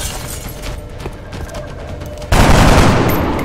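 Gunfire in the X-Com: Enemy Within video game, a rattle of shots that breaks into a loud, dense burst partway through and then slowly fades.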